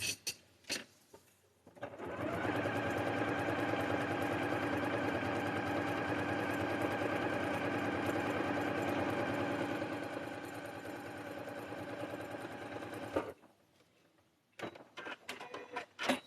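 A sewing machine stitching fabric runs in one continuous, steady mechanical whir for about eleven seconds, fairly close, with brief handling clicks before and after and no talking.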